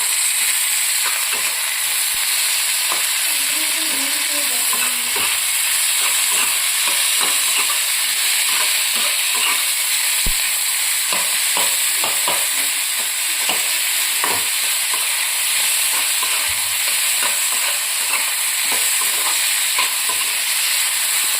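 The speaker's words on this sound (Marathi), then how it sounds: "आता आपण हे टोमॅटो ह्याच्यात भाजायला टाकूया" Tomatoes frying in a pan for Kolhapuri misal with dried peas, a continuous bright sizzle with repeated scraping stirs of a utensil against the pan, close up with no talking.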